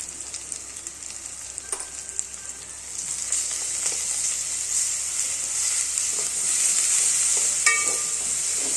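Ginger-garlic paste and turmeric fry in a hot pan for amaranth-leaf and tomato curry, giving a steady close sizzle that grows louder midway, with a few faint scrapes and no voices.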